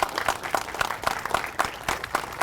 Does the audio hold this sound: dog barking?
no